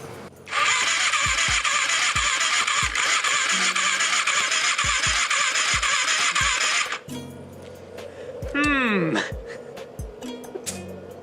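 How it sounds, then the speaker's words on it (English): A 1981 Suzuki GS450 engine cranks over with its spark plugs removed and throttle open for a compression test, giving a steady loud starter whir for several seconds, then stopping; brief voices and a rising whine follow. "while we have the plugs out, we're gonna try and run a compression test"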